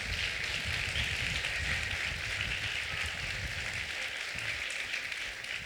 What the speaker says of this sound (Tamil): நல்லா தலைக்கு மேலே ஒரு கைதட்டு.